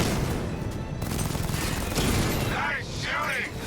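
Game gunfire and mechanical clatter in Batman: Arkham Knight, a dense mid-level barrage with booms and crashes, overlaid by a voice speaking and sweeping electronic effects toward the end.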